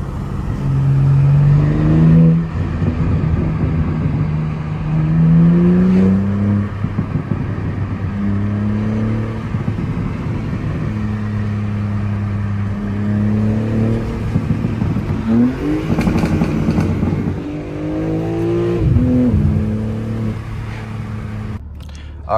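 A car engine runs loudly up close on a winter day, its droning pitch rising and falling in repeated revs over about twenty seconds and never stopping.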